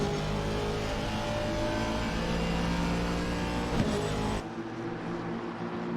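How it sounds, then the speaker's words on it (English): An Aston Martin race car engine in a racing video game holds a loud, steady high-revving drone with layered harmonics, then drops in tone as the car shifts or lifts. "the Aston Martin must be the best sounding car in this game"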